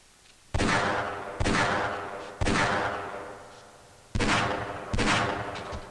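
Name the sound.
gunfire in video game Half-Life: Blue Shift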